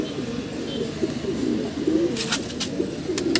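A black-beaked, white-eyed, round-headed pigeon coos in low repeated phrases at close range, with faint sharp background clicks near the end.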